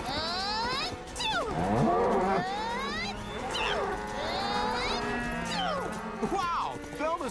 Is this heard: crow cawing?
no